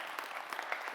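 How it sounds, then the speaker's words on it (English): Applause from an audience at a talk on power electronics and maritime engineering, a steady wash of many hands clapping at moderate distance for about a second, with no voices over it. "let's give yourselves a big round of applause"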